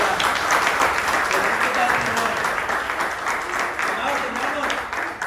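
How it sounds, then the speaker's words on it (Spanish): Church congregation breaking into loud, sustained applause during a sermon, dense overlapping clapping that fills the room and continues throughout, with cheering voices mixed in. "¿Cuántos les pueden dar un fuerte aplauso al Señor por esa respuesta que nos da?"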